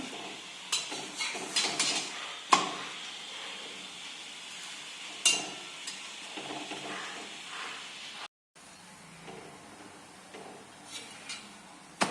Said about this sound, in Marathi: दोन्ही बाजूनी छान असं खरपूस असं भाजून घ्यायचं.